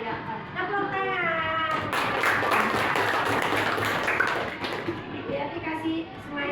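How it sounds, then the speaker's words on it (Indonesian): A group claps after a classroom talk on positive school culture, a dense burst of applause swelling and fading over several seconds, with a voice talking over the start. "Tepuk tangan."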